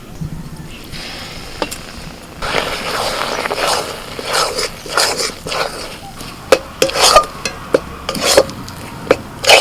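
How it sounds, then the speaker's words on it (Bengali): A thick semolina barfi mixture with sugar syrup being stirred and pressed in a pan, producing close, repeated scraping and rubbing strokes that grow into sharper, rhythmic scrapes toward the end. "এইভাবে নাড়াচাড়া করে করে এটাকে একটা ডো তৈরি করে নিতে হবে"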